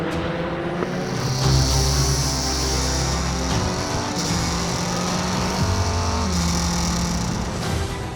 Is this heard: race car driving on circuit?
yes